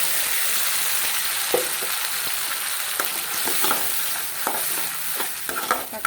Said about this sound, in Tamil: இப்போ வெங்காயம் நல்லா வதங்கினதும் நம்ம அரைச்சி வச்சுருக்க தக்காளியை சேர்த்துக்கலாம்.